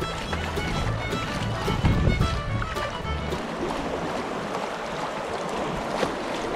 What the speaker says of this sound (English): A little waterfall coming down there.